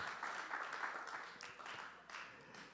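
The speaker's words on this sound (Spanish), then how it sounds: "Si el aplauso es para el Señor" A Spanish-speaking church congregation gives the Lord a round of applause during a teaching service, a soft, even patter of many hands clapping at a distance.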